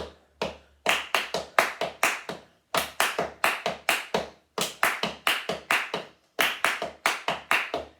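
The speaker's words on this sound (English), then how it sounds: "the rhythm I was clapping was actually on the gaps in between the beats" Body percussion hand claps in a syncopated pattern, landing between the beats over a low steady bass pulse, sharp and close in repeated groups of quick claps with short pauses between phrases.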